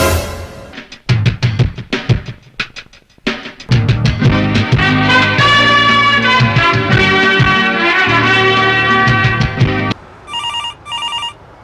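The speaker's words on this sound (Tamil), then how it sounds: "ஃபோன் அடிக்குது." Telephone ringing loudly and close, a bright ringtone melody with rapid repeated chimes, then a short higher beeping tone at the end, no talk.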